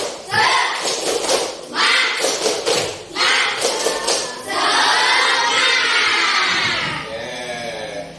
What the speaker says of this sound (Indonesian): Nah, tepuk semangat.